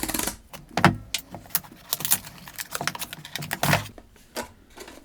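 An Akaso Brave 7 action camera box being opened up close: cardboard clicks, tabs and flaps rustling and snapping in quick irregular bursts.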